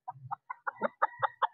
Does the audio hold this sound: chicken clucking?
yes